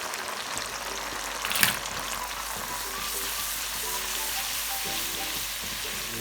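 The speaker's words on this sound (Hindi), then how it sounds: "स्पाइस डाल दिए मैंने, इसको भी 1 से 2 मिनट बस भुना है।" Ground spices and chicken qeema sizzle and fry in a pan, a steady close hiss with a brief louder stir or clatter near the start, no voices.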